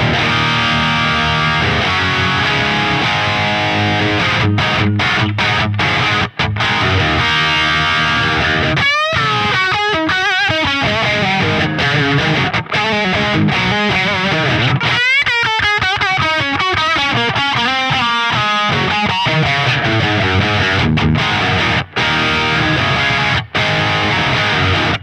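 Electric guitar through the Strat Dirty preset of the Neural DSP Fortin Cali Suite: a loud, continuous crunchy overdriven tone with busy riffing and bending lead lines, played alone without talk.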